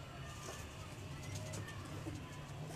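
Pigeons cooing on a rooftop loft at night, low soft coos close by over a steady background hum, continuous through the short stretch.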